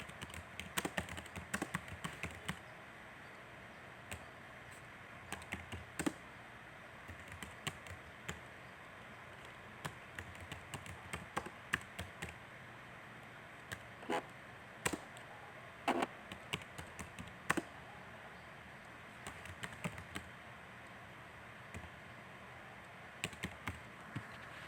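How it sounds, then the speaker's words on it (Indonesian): Quiet, irregular tapping of computer keys, short bursts of keystrokes with pauses, close and faint, no talking. "waktu mengetik kata pengangkut"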